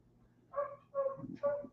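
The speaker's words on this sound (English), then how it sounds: "anybody that can hear that barking up there is the new dog" A dog gives three short, muffled barks in quick succession, somewhat distant, with a quiet background.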